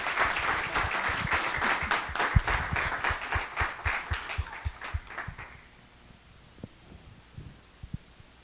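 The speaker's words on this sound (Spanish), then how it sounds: "Les pido un aplauso para los 4 que estuvieron magníficos." An audience applauds the four speakers on a panel about journalism in Juárez and violence, loud steady clapping that fades out after a few seconds, leaving a quiet room with a few scattered claps.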